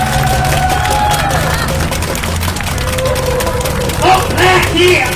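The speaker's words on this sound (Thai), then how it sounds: "ขอเสียงปรบมือส่งไปให้จารุพงษ์ทองศรีครับ" A rally crowd outside a Bangkok prison claps and cheers, a dense continuous wash of hand claps over a low hum of voices, swelling near the end.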